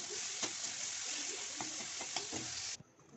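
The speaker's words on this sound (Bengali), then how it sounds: "লাল লাল করে একটু ভেজে নিচ্ছি চিংড়িটা" Prawns fry in a pan with a steady, close sizzle and faint stirring taps for about three seconds, after which the sizzle suddenly drops to a quieter hiss.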